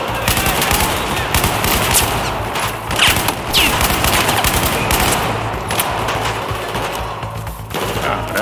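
Sustained automatic gunfire in Battlefield 4 single-player, with rapid overlapping shots and bursts, loud and continuous.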